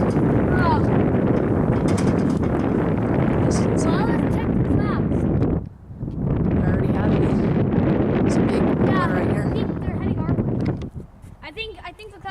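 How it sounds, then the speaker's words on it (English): Strong wind buffets a microphone outdoors ahead of an incoming storm, a loud continuous low rumble with one brief lull midway, while people talk underneath. "it's a little windy, guys"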